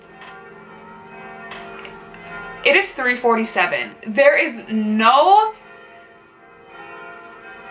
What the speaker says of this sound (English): We don't know why the church bells go off when they do.